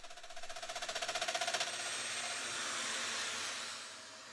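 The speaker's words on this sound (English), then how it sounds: "I'm mortising directly into the center of that tongue" A Festool Domino joiner cuts mortises into a wooden breadboard tongue, with a rapid pulsing oscillating whir that gives way to a steadier loud motor whine and dust-extraction roar at close range.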